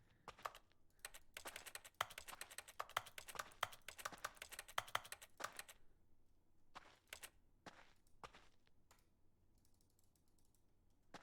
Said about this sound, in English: The hyper reality of pressing buttons on a keyboard.